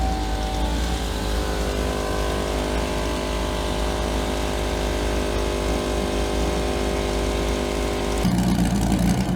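A car engine idles steadily while warming up, a continuous low rumble close by with a brief change in tone near the end.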